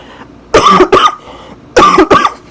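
Two bursts of coughing, each a pair of harsh, close coughs, separated by about a second of quiet.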